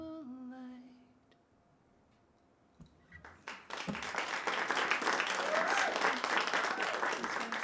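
After a sung phrase fades and a short hush follows, applause for the performer swells in from scattered first claps to a full, dense round of clapping from an audience that keeps going steadily.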